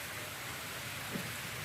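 Heavy rain pours outdoors in the dark as a storm approaches, a dense, even, faint hiss with one brief soft knock and no voices.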